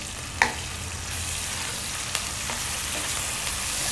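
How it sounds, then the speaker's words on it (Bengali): Ginger garlic paste frying in a pan for spicy pasta, giving a steady soft sizzle with a few sharp clicks and scrapes from stirring, all close and without talk. "এখন আমি ভালো করে একটু নেড়ে চেড়ে নিচ্ছি।"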